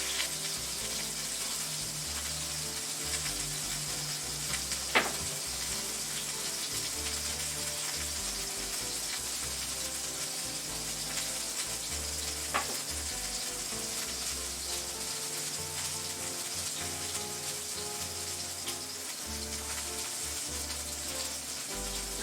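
Chicken sears in hot oil in a pan for a Ukrainian chicken potato casserole, giving a steady, even sizzle that runs throughout with only a couple of faint clicks.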